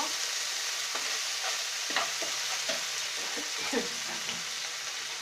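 Ginger-garlic paste sizzles steadily in a hot pan while a spoon stirs it, with soft scraping taps scattered through the frying hiss; no voices.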